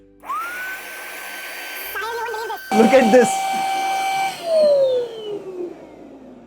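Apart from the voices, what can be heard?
vacuum cleaner sucking dust from an air purifier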